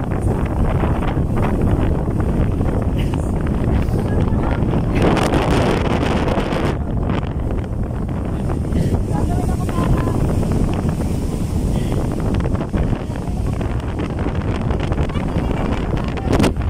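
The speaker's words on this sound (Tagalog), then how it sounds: "bali ang hangin ay nabato na sa aming mukha" Loud, constant typhoon wind buffeting the microphone with heavy rumbling roar, gusting throughout, with faint voices and possible water sounds underneath.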